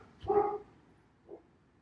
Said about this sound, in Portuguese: Minha cachorrinha que está querendo dar um palpite.